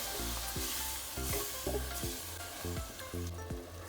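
Tamarind water hisses and sizzles as it hits a very hot pan for a canned tuna curry, with steady frying crackle and a few stirring scrapes and clinks throughout, close and alone.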